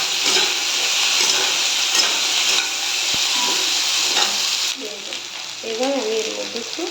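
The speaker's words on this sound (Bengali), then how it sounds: "এবার কেটে রাখা আলু আর কচুগুলো এর মধ্যে দিয়ে একটু ভেজে নেব, হালকা করে ভেজে নেব।" Chopped potatoes and taro go into a pan over fried onions and hiss steadily, then the sizzle drops lower as they settle. Stirring scrapes run through it, and a voice is briefly heard near the end.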